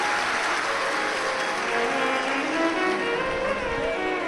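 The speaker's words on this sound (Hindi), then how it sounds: "एक बार जोरदार ताली बजाकर इनके लिए साधु का" A large crowd at an outdoor Shiv Mahapuran katha gathering applauds in a steady, dense wash of clapping. It sounds distant and rain-like and holds constant throughout, with no clear voices.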